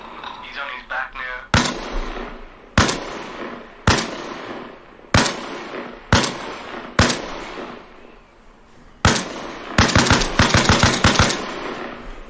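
Gunfire in the video game Arma Reforger: single loud shots spaced every second or so, then a rapid burst of fire near the end, with a voice talking faintly between shots.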